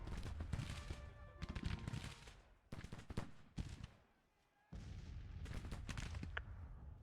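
Musket volleys and cannon fire in the Civil War strategy game Grand Tactician, dense crackling gunfire in bursts with a brief lull.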